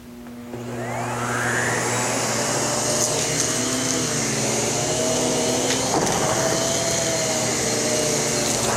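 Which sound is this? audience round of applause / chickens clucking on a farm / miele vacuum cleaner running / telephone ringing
miele vacuum cleaner running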